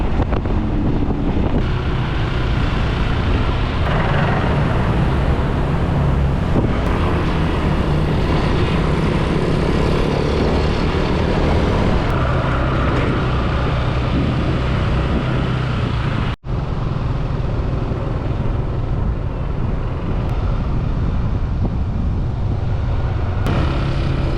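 Scooter ride along a road in eastern Bali, with steady engine drone and heavy wind buffeting the microphone throughout, loud and continuous with no talking.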